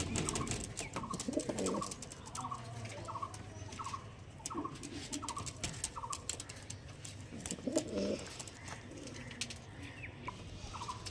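Several healthy pigeons of the Andhra star kalka breed coo in repeated soft rolling phrases, close and overlapping, with steady coop background noise throughout.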